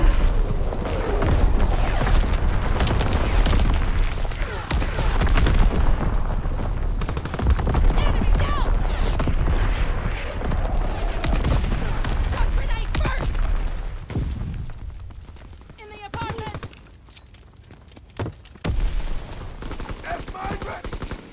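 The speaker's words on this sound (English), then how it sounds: "Incoming enemy artillery! Get to cover!" Enemy artillery fire in the World War II shooter Call of Duty WWII: a dense, continuous barrage of gunfire, booms and thuds lasting throughout, loud and layered, easing somewhat near the end with scattered sharp blasts.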